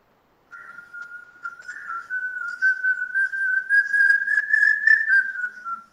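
A recorded bird call is played back as one long, clear whistle. It holds steady and rises slightly in pitch over several seconds, with a few faint higher notes above it.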